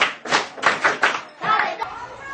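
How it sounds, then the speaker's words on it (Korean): Fourth-grade schoolchildren in a Korean classroom clap together in five loud, evenly spaced group claps of praise, each a broad burst with a short gap, the last trailing into room noise. "자, 칭찬 박수 5번. 시작."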